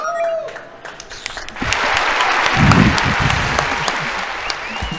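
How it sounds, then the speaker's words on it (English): Crowd at a live furry convention gaming event cheering and applauding loudly, clapping swelling after a moment into a full roar with shouts and whoops, then holding steady. "I want to hear y'all cheer if you want to see them kiss."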